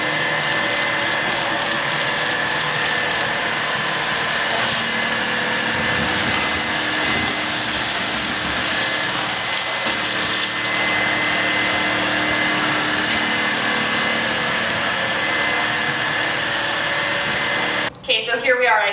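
A cordless vacuum cleaner runs at power level 3, a loud steady whine and roar held throughout, then cut off abruptly near the end with a brief clatter.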